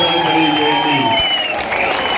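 A large crowd at a political rally speech in Palamaner claps and cheers, a loud unbroken wash of noise with faint tonal voices mixed in.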